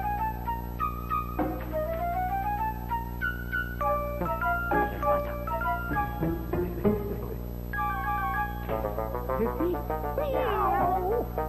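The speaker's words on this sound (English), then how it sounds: "May nakapasok na pusa." A cat meows repeatedly in a Filipino comedy film, a string of short, rising and falling cries, fairly close, over a steady low hum with no talking.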